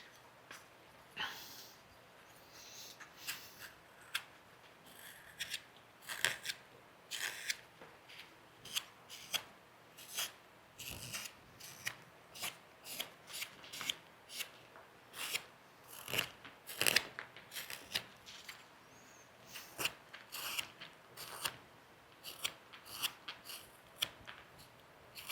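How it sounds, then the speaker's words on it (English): A number 9 wood carving gouge works down the hat of a carved wooden pumpkin, a quiet, close series of irregular scraping and shaving cuts, each short and crisp, repeating unevenly over a faint background. "if you have a number 9 gouge, you can come in here and work this hat down"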